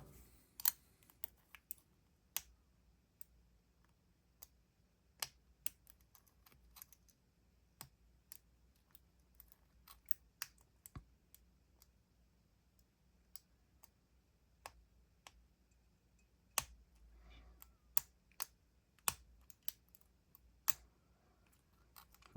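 Sharp, irregular metallic clicks from an American 1100 padlock being picked, scattered over about twenty seconds and up close, with occasional louder snaps and a low hum underneath.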